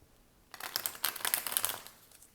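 Tarot cards being shuffled close by, a soft burst of crisp riffling and papery flicks lasting about a second and a half, fairly faint with no talking.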